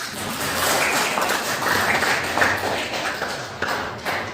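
A classroom full of students clapping steadily for several seconds, a dense patter of hands with no voices over it.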